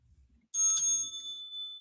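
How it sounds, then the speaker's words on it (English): A small bicycle-style bell rung once during a wrestling podcast, a bright ringing ding that starts sharply and fades over about a second, close and clear against silence. "Dan, you can go ahead and ring the bell for both of us."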